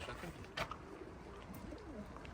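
Pigeons coo softly in a breeder's loft, low rolling calls repeating through a steady, faint background hum with a brief rustle partway through.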